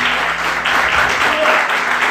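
Church congregation breaks into sustained applause during a Portuguese-language worship service, a dense steady wash of clapping that fills the room from start to finish.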